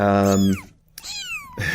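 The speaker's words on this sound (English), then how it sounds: "this is a very noisy kitten." A small kitten meows loudly and close up as it is picked up, giving one long drawn-out cry, then a shorter one after a brief pause, and a third starting at the end.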